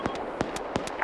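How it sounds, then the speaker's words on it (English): Gunfire in a Squad-style military shooter on a Russia map, a handful of sharp cracking shots spaced irregularly, fairly loud and close, with no talk over them. "Shots from the south."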